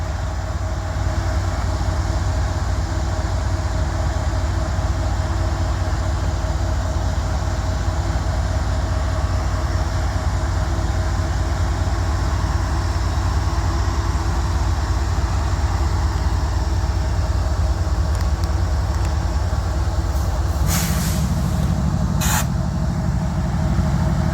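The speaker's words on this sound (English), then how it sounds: "Knock the brakes off on the train, start pulling it up." A heavy southbound freight train in Abbeville has its brakes released and begins pulling out: a steady loud low rumble and engine drone throughout, with brief hissing bursts of air near the end.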